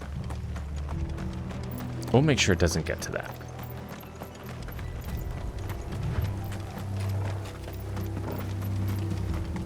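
Horses gallop in Final Fantasy XVI with steady rhythmic hoofbeats and a short burst of whinnying near the start. A voice speaks briefly over the clatter.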